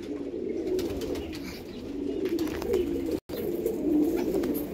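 Andhra breed pigeons cooing in a loft, a soft continuous throaty coo repeating close by, steady and unbroken apart from one short cut.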